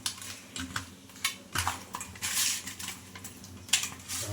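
A ladle scrapes and clinks against a pan while fish pieces coated in spicy masala are tossed and mixed, giving irregular metallic taps and scrapes up close with no talking.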